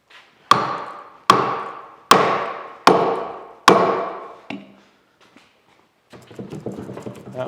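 Five loud, evenly spaced hammer blows ring out on a stubborn Chattanooga No. 14 cast-iron cane mill being loosened for restoration, each strike sharp and metallic with a short ringing decay, followed by quieter shuffling and handling.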